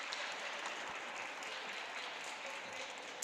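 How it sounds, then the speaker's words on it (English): Spectators applauding at a roller derby game, the Breslau Rebels against Roller Derby Brno Freakshow, a soft, distant, even wash of clapping that holds steady without speech. "The audience applauds"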